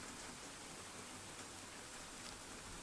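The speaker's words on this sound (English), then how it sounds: "It's raining." Steady rain falling outdoors as an even, dense hiss without pauses, soft and distant with no voices.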